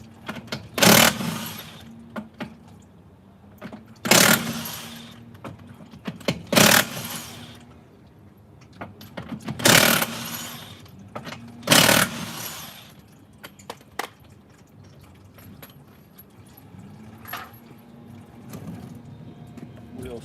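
A pneumatic impact gun with a 21 mm socket loosens the stuck wheel on a Toyota Prius, firing five short, loud rattling bursts spaced a few seconds apart, with quieter workshop noise and someone talking between them.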